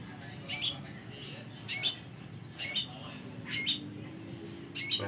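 A tame, long-kept sogon bird squawks five times in short, sharp, evenly spaced bursts, close by over a steady low background hum.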